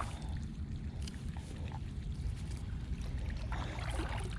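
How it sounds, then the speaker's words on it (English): Continuous low rushing of water spilling over a folded culvert and splashing, like a small waterfall, steady and moderately close with no voices. "I got the culvert folded up so that it creates like a waterfall almost."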